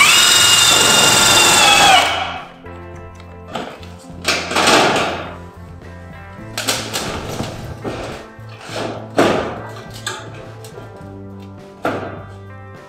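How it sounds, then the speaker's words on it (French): A power screwdriver drives screws into the crest of corrugated steel roofing sheet on a chalet. It opens with a loud, sustained whirring whine, then gives several shorter bursts of buzzing mixed with dull metallic taps and thunks. "je viens visser ici, sur le haut de l'onde"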